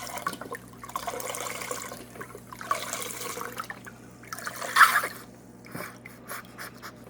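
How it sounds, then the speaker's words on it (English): Store-bought broth poured into a pot in a home kitchen, a liquid splashing and gurgling in uneven bursts with a brief louder splash near the end, close and fairly soft. "you pour your broth"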